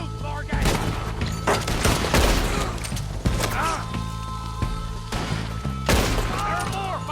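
Gunfire rings out in Red Dead Redemption 2 in a rapid series of loud, sharp shots and booms spread across the clip. Voices and game sounds mix in between the shots.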